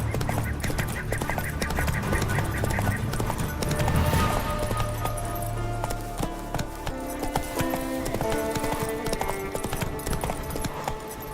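In The Witcher 3 video game, a horse gallops with a loud, rapid, steady clip-clop of hooves over game music and ambience.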